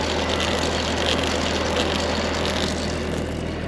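A simple mechanical cable winch on an off-road buggy spools in steadily, its continuous droning hum heard up close with an engine-like low rumble and no talk throughout.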